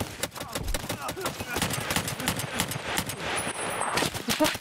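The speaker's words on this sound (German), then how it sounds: "Jetzt schieß! Schieß!" Rapid automatic gunfire in the shooter game Escape from Tarkov, a dense, loud burst of shots running the whole time with a voice speaking over it.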